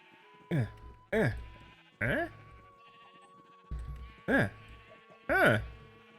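Sheep in Minecraft bleat in six separate, evenly loud baas spread over several seconds, each a short wavering cry with pauses between, against a faint steady tone.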